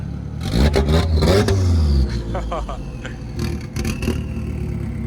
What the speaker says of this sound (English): With the Lambo, start it up.